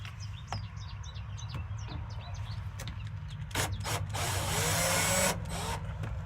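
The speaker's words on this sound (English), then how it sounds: "So it's definitely drilling it out a little bit." A power drill works at a stripped screw, running in short bursts and then a longer steady grind, with light scraping and rubbing of bit against screw head and wood, close and fairly loud with no talk.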